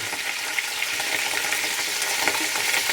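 Whole spices sizzle and crackle in hot oil in a pot for chicken yakhni, a steady close frying hiss with small popping bursts throughout and no talking.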